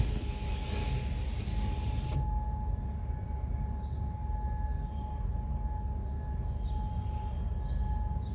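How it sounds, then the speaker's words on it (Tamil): A steady, droning alert siren in Kuwait wails in the distance over a constant low rumble, holding a sustained tone throughout with no talking. "சைரன் சத்தம் தான்."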